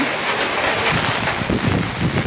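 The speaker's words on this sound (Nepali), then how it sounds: "यहाँ हेर्नु पानी पर्दैछ" Steady rain hisses outdoors with a gusty, windy rush and occasional low patters, continuous and fairly loud throughout.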